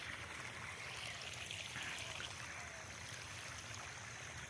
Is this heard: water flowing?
yes